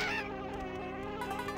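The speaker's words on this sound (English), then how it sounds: "Got some mad bees chasing after me." Angry bees buzz around a hive in a video game, a steady, close insect drone that holds through the whole stretch without any talk.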